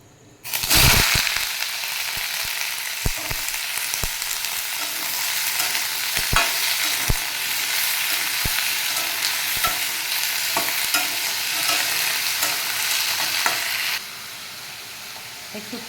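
Vegetables hit a hot pan and are stir-fried, a loud sizzle at the start that settles into steady frying, with regular scrapes and taps from stirring until the hiss drops lower toward the end.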